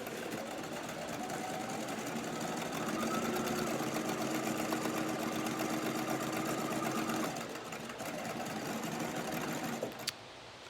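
A sewing machine stitches fabric for a face mask in a steady, whirring run that pauses briefly near the end before resuming, close and fairly quiet with no talking.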